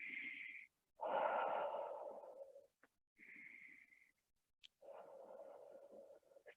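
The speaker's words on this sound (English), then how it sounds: "arms out, deep breath in" Deep, slow breaths taken while holding a yoga pose: a few quiet, close inhales and exhales in separate bursts with short pauses between them.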